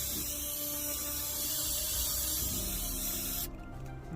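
Sticky stuff remover is sprayed onto a car in one continuous, close hissing burst lasting about three and a half seconds, then cutting off abruptly into quiet.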